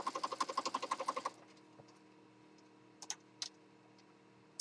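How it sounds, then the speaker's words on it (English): A sewing machine runs a zigzag stitch with black thread top and bottom, a quick even burst of about a dozen mechanical ticks for just over a second, then stops, leaving low hum and a few faint clicks. "I've got it on zigzag. I've got black thread in my upper and my lower. I'm just going to stitch down."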